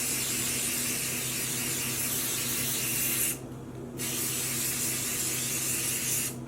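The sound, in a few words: spray bottles spraying dye onto sock blanks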